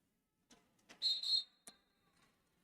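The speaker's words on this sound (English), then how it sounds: "I'm hearing a whistle" A referee's whistle at a roller derby game sounds once as a short, shrill blast, faint and somewhat distant, with scattered light clatter from the track around it.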